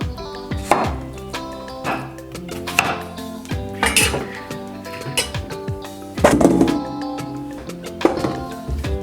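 A knife chops plantains into rounds about two centimetres thick on a board, a series of sharp, irregular knocks close by, with some clinking of kitchenware.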